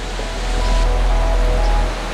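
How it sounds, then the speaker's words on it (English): Waterfall water pouring steadily as a continuous broadband roar, close and fairly loud, swelling slightly mid-clip with no voices. "This waterfall is really beautiful and I could easily spend an hour or 2 hours here."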